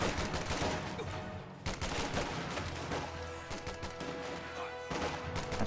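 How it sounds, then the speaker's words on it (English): Sustained gunfire from an MG42 machine gun in a war strategy game, with dense rapid bursts running continuously alongside other battlefield shots and crashes, loud and close throughout. "It looks like Lewted should be able to win this engagement if he can just get his machine gun to start firing."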